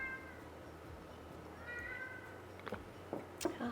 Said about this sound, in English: here's my cat begging to get out.